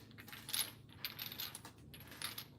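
Small metal rings clink and jingle together in light, repeated bursts, close up and quiet, with no talking.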